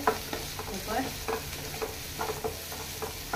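Kalwa, Goan oysters, fry in a pan with a steady close sizzle, broken by repeated scraping stirs of a utensil against the metal and no voices.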